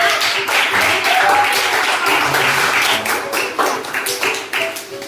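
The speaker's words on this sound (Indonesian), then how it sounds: "tepuk tangan dulu dong semuanya" Students in a Grade VII junior high mathematics classroom clap together after a presentation on algebra teaching aids, a dense, steady patter of many hands filling the room, with a few voices mixed in.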